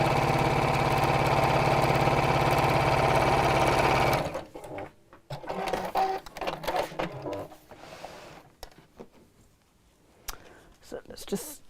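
A domestic sewing machine stitching a seam on a fabric book cover, running in a steady fast hum for about four seconds, then stopping as someone talks over handling sounds.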